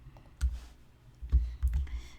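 Quiet keys clicking on a computer keyboard come in a few scattered, soft taps over a low room hum, with no talking.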